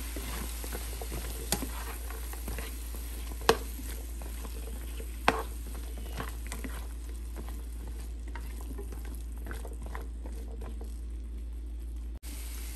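Vegetable kurma stirred in a pan, a steady low sizzle with occasional scraping clicks and sharp spoon knocks against the pan, close and moderately quiet, no voices.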